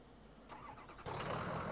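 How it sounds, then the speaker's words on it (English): A diesel snow plow truck engine in the Snow Plow video game cranks briefly, then catches and settles into a steady, louder running rumble, heard close and alone. "try starting our engine with our stream deck"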